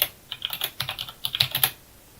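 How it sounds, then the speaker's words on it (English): Rapid bursts of keystrokes on a computer keyboard, close and crisp, in uneven clusters of clicks with short pauses, nobody speaking. "and keep on typing."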